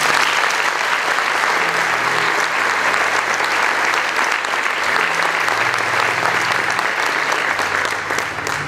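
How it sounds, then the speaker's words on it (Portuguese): An audience at a church inauguration service for a mayor breaks into loud, sustained applause to welcome him, with dense clapping continuing evenly throughout and a faint low hum underneath. "Vamos receber o Prefeito com uma salva de palmas."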